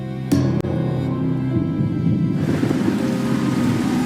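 Storm with wind, rain and thunder, a sharp crack of thunder followed by a heavy rumbling roll under steady rushing rain and wind that continues loudly throughout.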